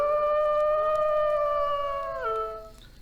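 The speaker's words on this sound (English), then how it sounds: "a really loud howl sound effect" A loud, drawn-out wolf-like howl sound effect from the I Spy Spooky Mansion video game, one sustained wavering cry that holds steady and then dips and fades out near the end.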